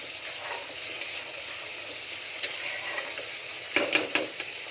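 Fish frying in a pan for a home-cooked meal, with a soft steady sizzle throughout and a few sharper crackles and spatters near the end.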